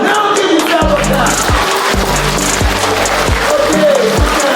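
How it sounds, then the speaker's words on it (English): Loud, dense clapping from a large audience at a talk, a steady roar of hand claps with rhythmic low thumps beating through it. "Now give yourself a clap."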